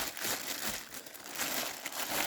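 Plastic parcel packaging from China crinkles and rustles continuously as it is unpacked close by, a dense irregular crackle with no speech.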